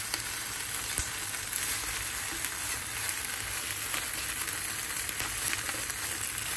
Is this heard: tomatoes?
yes